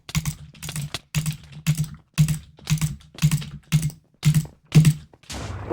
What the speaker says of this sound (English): where you start butterfly clicking and stop.